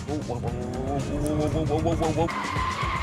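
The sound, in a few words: car tyres skidding during a backwards spin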